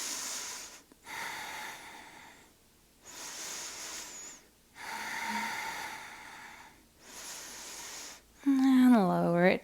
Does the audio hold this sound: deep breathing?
yes